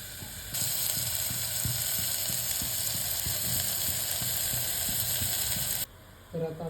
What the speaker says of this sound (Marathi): मस्त याला असं परतून घ्यायचं.